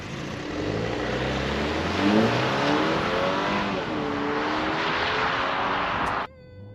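A 2024 BMW X2 in sport mode launching hard off the line, its engine note climbing through the gears with a loud, continuous rising drone before cutting off abruptly.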